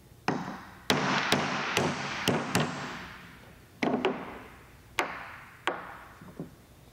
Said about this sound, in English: Using a hammer and socket, drive out the seal.